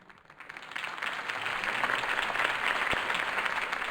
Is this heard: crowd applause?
yes